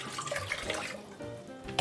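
Water running steadily from a tap into a pot for a sugar-and-water recipe, a close continuous gush with a brief sharper splash at the end and no voices.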